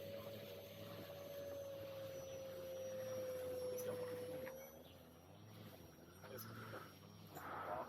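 An electric Concept X RC model airplane flies and descends, its motor whine holding a steady pitch that dips slightly before cutting out midway, leaving wind noise and a brief rising burst near the end.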